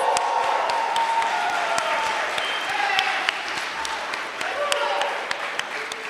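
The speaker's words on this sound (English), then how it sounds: "give yourself a round of applause" Applause from a symposium audience of community organization members, lively clapping with a few sharp individual claps standing out close by, voices and cheers mixed in beneath the steady crowd noise.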